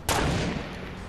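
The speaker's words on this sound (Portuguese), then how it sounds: "Tão atirando aqui pra tudo que é lugar" A single sharp gunshot rings out in the video game Fortnite, a loud, sudden crack with a short decaying tail.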